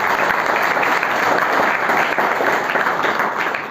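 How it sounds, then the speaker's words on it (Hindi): An audience at a career guidance session for 12th-grade students gives loud, dense applause for the guests. Vigorous clapping stays steady and close for the whole clip, with no talking. "आप तमाम के लिए एक बार ज़ोरदार तालियां बजा दें।"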